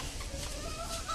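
Chickens on a small farm cluck softly in a brief, low-level stretch of muffled background noise, with no voices.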